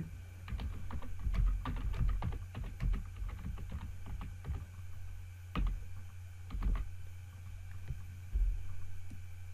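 Typing on a computer keyboard, with irregular bursts of close key clicks and short pauses between them against a steady low hum.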